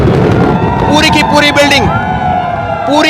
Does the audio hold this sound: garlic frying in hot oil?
no